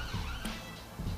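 A siren wails faintly in the distance, its tone wavering under steady background noise.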